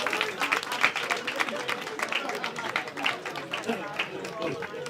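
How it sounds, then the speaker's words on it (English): Comedy club audience applauding, a fairly steady wash of clapping at moderate distance with some chatter mixed in. "Give yourselves a round of applause."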